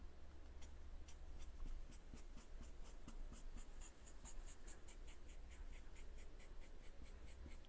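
Pen or pencil drawing a circle on paper, a steady soft scratching that continues throughout at low level.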